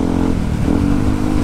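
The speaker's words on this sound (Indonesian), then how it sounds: "aing ngetes motor malam ini" A motorcycle test ridden at night, its engine droning steadily and loud at close range, with a low rumble that holds through the short stretch.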